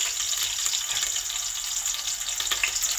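Green chillies sizzle in hot desi ghee while cooking mutton biryani, giving a steady, close, hissing crackle with small spits and pops, with no talk over it.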